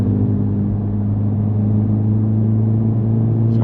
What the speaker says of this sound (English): let's have a listen to the Civic Type R here